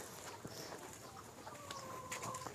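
Laying hens cluck faintly and intermittently on a mixed integrated farm, a few short calls scattered over low background noise.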